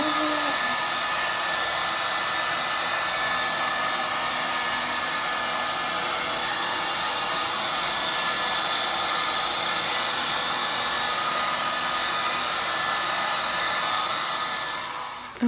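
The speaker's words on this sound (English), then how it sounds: "I'm going to get my heat gun out one more time." A heat gun roars steadily over poured fluid art paint from a dirty flip cup, a loud, continuous close-up blowing hiss that holds for the whole stretch and cuts off abruptly at the end.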